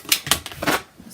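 Scissors cutting through T-shirt fabric along the sides and up through the sleeve, guided by a 24-inch template for a memory quilt, a few quick close crisp snips in uneven rhythm, then quieter.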